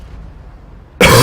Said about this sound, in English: Hold on, trying to cough.